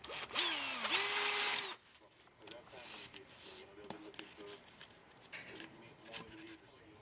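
A power drill bores through reinforcing card on a three-channel trainer model airplane fuselage, a loud whining burst of under two seconds with rising pitch, followed by quieter handling clatter and a faint voice.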